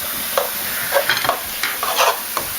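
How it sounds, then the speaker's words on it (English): Prosciutto and mushrooms being stirred in a frying pan, with a spoon scraping in short, uneven strokes over a steady sizzle of frying. "stirring around the prosciutto and the mushroom for me so it doesn't get dry out"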